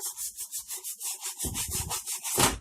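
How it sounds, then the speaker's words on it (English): Scrubbing pad worked hard across a wet stove top, a steady rhythmic back-and-forth rubbing of about a dozen strokes, growing rougher and louder toward the end, with no voices. "So scrub, scrub, scrub."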